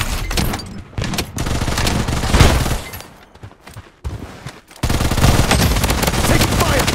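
Automatic turret gunfire in the shooter game Blood Strike: loud rapid bursts of machine-gun fire in several stretches, a brief lull near the middle, then a sustained heavy volley to the end.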